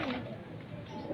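Pigeons of a breed kept by a rooftop fancier coo in a short, dense low murmur that fills the brief moment, with no voices.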